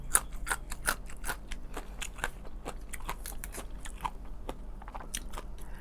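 Crunchy pickled mustard greens are bitten and chewed close up, with a steady run of sharp, crisp crunches and no talking.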